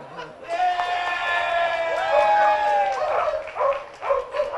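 Several dogs bark and yip in quick bursts amid a lively crowd at a humane society event, with clapping and cheering swelling around them before the barks trail off.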